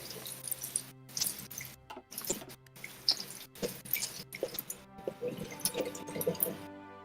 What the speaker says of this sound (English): Yeah, that's water noises.